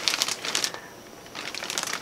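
Plastic bag crinkling as a Louis Vuitton item is drawn out of it, a run of close, bright rustles and crackles in two bursts with a brief quieter gap between.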